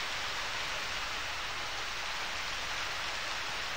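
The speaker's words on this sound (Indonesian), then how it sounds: "Hujan terus, iya maaf nih hujan terus." Steady rain falls in the Harvest Moon: Back to Nature video game, a constant, even hiss of downpour throughout with no talk.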